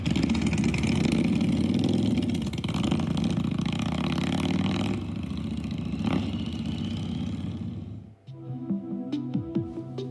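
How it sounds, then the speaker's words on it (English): A motorcycle engine sample played back by a smart speaker, rumbling steadily at idle with some revving for about eight seconds, then cutting off into a quieter mix of faint tones and clicks. "what does a motorbike sound like? This is a motorcycle."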